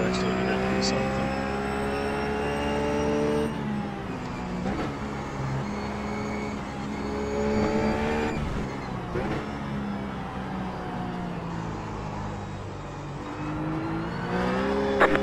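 RUF race car lapping Mid Ohio in iRacing, its engine droning loudly with rising pitch as it accelerates and audible gear changes and revs between, a steady near in-car roar with occasional faint talk.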